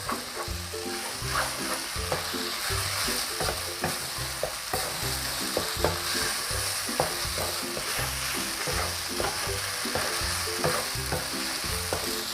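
Glass noodles (pad woon sen) are stir-fried over high heat, a steady loud sizzle broken by regular scraping and tossing strokes of the spatula against the pan, with no talking.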